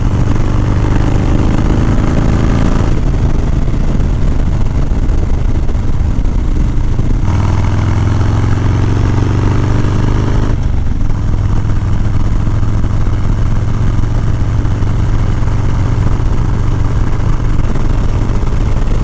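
A Harley-Davidson FXR motorcycle ridden along a tree-lined road, its engine droning loudly and steadily throughout, with a few shifts in pitch as the rider changes gear, no voices.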